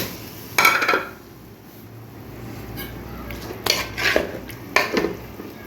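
Fish going into a pan where it has been cooked down with chili, heard as a few close metallic clatters and scrapes of utensils against cookware between quieter stretches.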